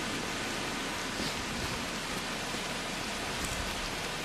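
Steady, dense rainfall in the video game VEIN, a continuous even hiss of drops on surfaces with no breaks or thunder, heard alone without talk.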